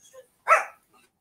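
A dog gives a single short bark to warn of someone approaching, a close, sharp yelp with faint chirping around it.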